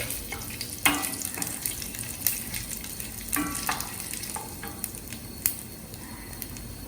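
Whole spices such as jeera, shah jeera and black pepper frying in a pot for lilva biryani give a steady, moderate sizzle, broken by sharp clinks and scrapes of stirring throughout.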